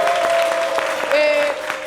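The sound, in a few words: studio audience applause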